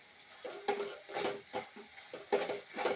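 A spoon stirs spice masala with red chili powder, garam masala and salt in hot oil in a pan, giving soft intermittent scraping strokes and light clinks over a faint sizzle, close and quiet.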